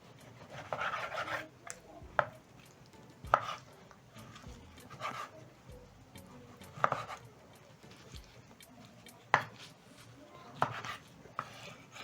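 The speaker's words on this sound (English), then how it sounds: "So I'm going to cut into bite-sized pieces" A knife chops beef liver into bite-sized cubes on a board, with irregular sharp knocks landing every second or so over soft rubbing and sliding between cuts, close and moderately quiet.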